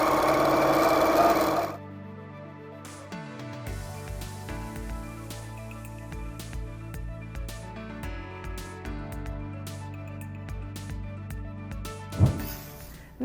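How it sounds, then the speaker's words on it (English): Home sewing machine stitching quilt fabric with a 1/4-inch seam allowance, a steady mechanical whir with rapid needle clatter that starts after a brief louder opening, runs in bursts with short pauses, and carries on close and clear with no talk. "I can take this to my machine and sew it using a 1/4-inch seam allowance."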